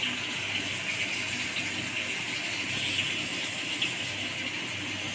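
Tap water runs steadily into a container used to wash greens for a leafy-greens dish, a continuous close gushing splash with no pauses.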